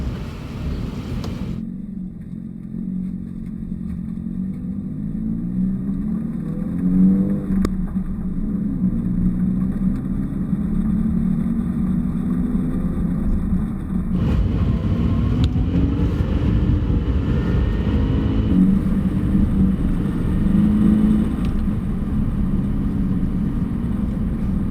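A Toyota 86 rear-wheel drive sports car drives on dirt after sitting lightly buried in a dirt hill, its engine a steady loud rumble that rises and surges at intervals with no talking.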